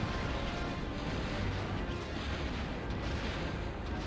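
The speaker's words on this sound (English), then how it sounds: "things are exploding" Dense, continuous rumbling blasts of starship explosions in the space combat game Star Wars: TIE Fighter, a steady heavy roar with low booming texture and no clear gaps.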